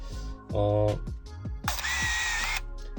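Motor drive of a Ricoh FF-3AF film camera winding film after blank shutter presses, a loud whirring burst followed by a longer sustained mechanical whine, close up.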